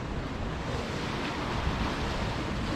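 Ocean waves surge onto a wild coastline very close by, a dense continuous roar of rushing water and wind noise that never lets up.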